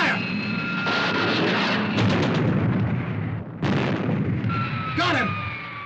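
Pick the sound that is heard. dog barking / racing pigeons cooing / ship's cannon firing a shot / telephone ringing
ship's cannon firing a shot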